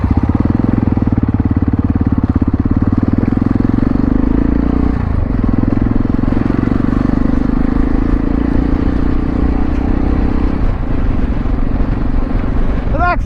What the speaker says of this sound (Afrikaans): Hoor jy die magtige Honda?